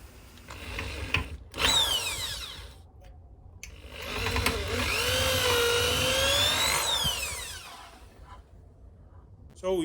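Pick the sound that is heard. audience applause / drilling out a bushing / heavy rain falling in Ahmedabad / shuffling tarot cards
drilling out a bushing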